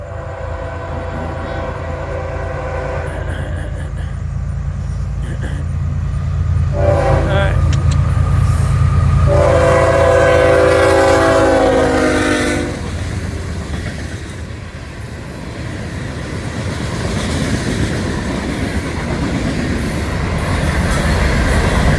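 A Florida East Coast Railway freight train carrying ethanol and rock passes near Lewis Speedway, a loud, steady rumble of wheels and cars with a horn blaring in the middle, continuous throughout.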